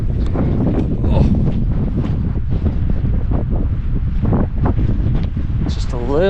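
Strong wind blows across an outdoor wilderness campsite, a constant heavy rumble buffeting the microphone. A voice speaks briefly over it.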